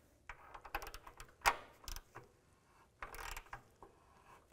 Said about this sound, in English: Grab my ratchet.